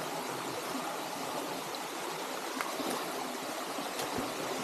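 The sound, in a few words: small waterfalls, flowing stream water on a farm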